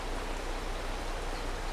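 Steady rain in Farming Simulator 22, a dense even hiss of falling water with no breaks and no voices over it.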